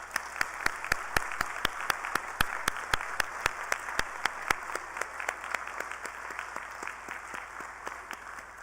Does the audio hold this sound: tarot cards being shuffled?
no